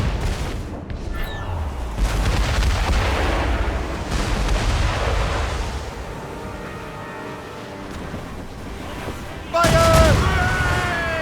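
Ship cannons in Assassin's Creed Rogue fire in several heavy booming bursts, spaced a few seconds apart, with a louder volley near the end, under a rumbling sea-battle din and occasional voices.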